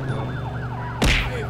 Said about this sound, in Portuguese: Queria desligar a sirene